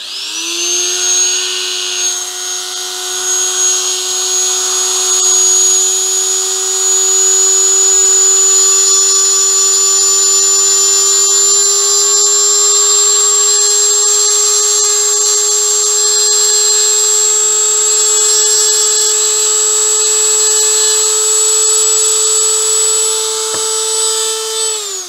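A rotary tool cuts grooves with a sustained high-pitched whine, steady and loud from start to finish, its pitch rising slightly midway, with no talking.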